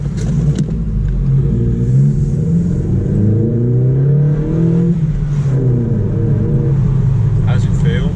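Vauxhall Corsa D engine fitted with a performance air filter, a deep droning rumble that rises and falls as it revs under way, heard from inside with people talking over it.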